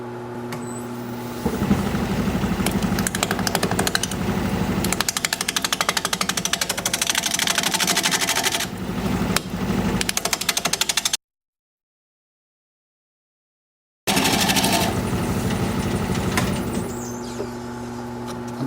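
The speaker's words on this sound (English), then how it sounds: "I'll be using a 1/2 inch standard grind bowl gouge." A 1/2 inch standard-grind bowl gouge cutting a natural-edge wooden bowl on a lathe: a loud, close, rapid rattling chatter that runs steadily, breaks off into a few seconds of silence, then resumes.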